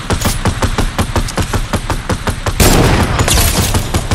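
Rapid gunfire from the video game Fortnite, a dense string of loud, closely spaced shots crackling in quick succession, then a sustained burst of heavier, continuous firing.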